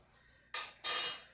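A spoon knocks and clinks against a bowl while mixing wet ingredients: two short, bright, fairly loud scraping bursts close by, the second fuller than the first, and no speech.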